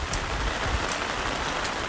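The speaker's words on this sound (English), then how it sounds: "It doesn't seem possible, but the rain gets heavier," Heavy rain pours steadily on a forest trail, a dense, close, continuous hiss of drops with no talk.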